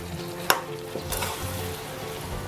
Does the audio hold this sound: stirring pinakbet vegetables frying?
yes